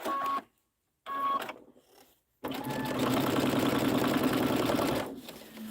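A sewing machine stitches fabric stars for a quilt, two short quick bursts of rapid needle chatter followed by a longer steady run of stitching, close and clear.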